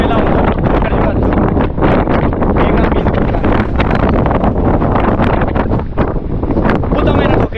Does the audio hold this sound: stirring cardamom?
no